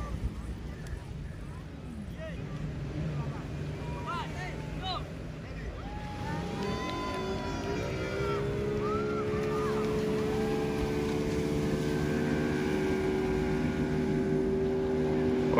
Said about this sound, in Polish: tutaj już motorówka rusza